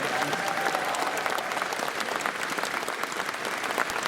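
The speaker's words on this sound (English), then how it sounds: "Big round of applause for all the local Pittsburgh television stations." A large crowd applauds at a furry convention's opening ceremony in Pittsburgh, a steady wash of many hands clapping at a moderate distance, with faint voices mixed in.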